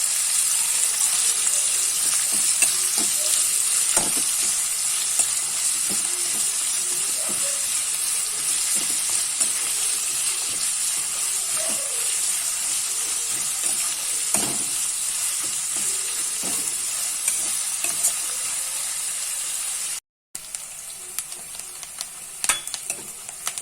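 Onions frying in ghee for a chicken munchi fry: a loud, continuous close-up sizzle with occasional stirring scrapes, broken by one brief dropout near the end.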